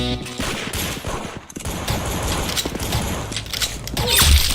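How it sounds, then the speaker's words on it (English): Rapid gunfire in a Roblox game, dense bursts of shots with a crash near the end, continuous and fairly loud throughout. "Very good shooting."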